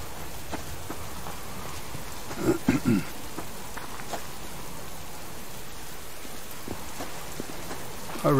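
Rain falls steadily in the Alaskan outdoors during a subsistence moose hunt, a soft constant patter with a few louder drops and brief bumps, no voices over it.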